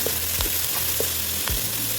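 Zucchini gravy with chopped green chilies cooks in a pan, giving a steady close sizzle with a few faint clicks and scrapes scattered through it.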